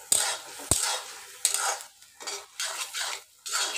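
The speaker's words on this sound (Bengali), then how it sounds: "তো এখন আমি একটু ভালোভাবে মিক্স করে নেব বন্ধুরা।" A spoon clatters against a pan in a few sharp knocks as spices get mixed into a prawn curry, followed by soft intermittent scraping strokes with quiet gaps between, and no one speaking.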